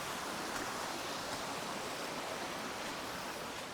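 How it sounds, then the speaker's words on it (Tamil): Forest stream at Ulakai Aruvi flowing steadily, a constant broadband rush of water close by with no pauses or voices, evenly loud throughout. "உங்களுக்கு ஆறு மாதிரி போகுது ஸ்ட்ரீம்"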